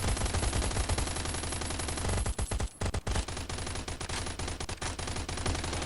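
Gunfire in Last Island of Survival rattles almost without pause, with dense rapid shots, a brief gap near the middle and sustained loud bursts on either side.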